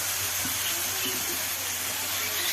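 Spinach greens and stalks tossed into a hot pan with potatoes and vegetables for a Bengali shak chorchori, giving a steady, close, hissing sizzle that runs the whole time without pause.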